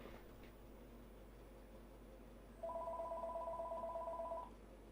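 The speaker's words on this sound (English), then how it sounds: "If I keep hanging up on it, you think it'll keep ringing?" A telephone rings nearby: a steady electronic two-tone trill starting partway through and lasting about two seconds over a quiet room hum.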